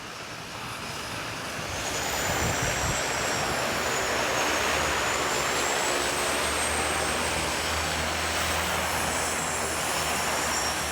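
A steady seaplane engine drone with a propeller hum holds close and loud throughout as it taxis in to a dock, rising slightly after the first couple of seconds and staying even.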